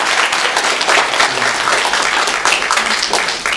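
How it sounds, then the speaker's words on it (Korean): A church congregation at a Sunday worship service applauds together, a close, loud and dense wash of many hands clapping steadily for the full stretch before easing slightly at the end. "우리 집사님 위해서 박수를 동의해 주시겠습니다"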